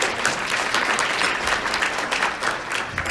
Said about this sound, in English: I love the color of the sound of clapping